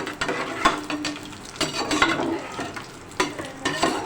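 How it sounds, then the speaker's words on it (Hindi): Coconut and almonds being lightly fried in a pot for sweet chana dal khichda make a soft, uneven sizzle with irregular clinks and scrapes of stirring, moderately quiet and with no talking. "ये खोपरा, बादाम, ये सब भी हल्के हल्के से फ्राई कर लें"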